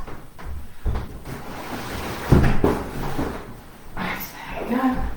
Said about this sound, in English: I just need to close this door before we start.